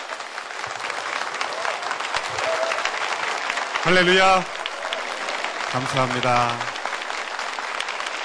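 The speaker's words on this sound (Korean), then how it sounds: "사랑의 박수 한번 보내주시기 바랍니다" A church congregation gives sustained applause for a pastor, a broad, even patter of many hands filling the room while a voice speaks briefly over it twice.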